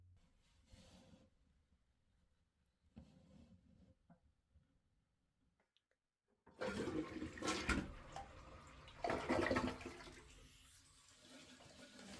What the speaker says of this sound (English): Turn the water back on, allowing the tank to fill.